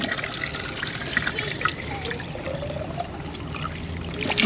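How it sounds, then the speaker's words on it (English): Water pours and trickles steadily into a chocolate milk jug being rinsed out, a close, continuous splashing and gurgling with small sloshing bursts, no voices. "I'm gonna rinse it out. Rinse it out real good."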